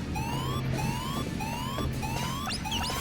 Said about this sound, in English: I have no choice but to trip the alarm